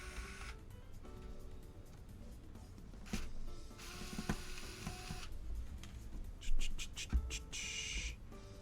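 Close, quiet clicks and ratcheting scrapes of a screwdriver working out the internal screws of a blown modular PC power supply, in irregular bursts with brief louder clatters near the end.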